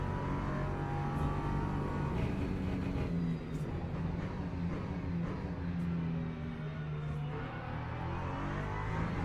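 An LMP3 race car sweeps through a corner at Circuit of the Americas, its engine drone rising and falling in a continuous, moderately distant wail with no voices over it.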